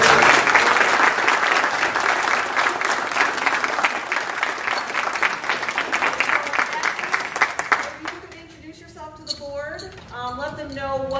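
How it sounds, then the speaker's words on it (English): Loud, sustained applause at a high school district board meeting for student medal winners and their parents and coaches, filling the room for about eight seconds before tapering off as a voice begins speaking. "I want to give them a round of applause again, and their parents and coaches for being here today"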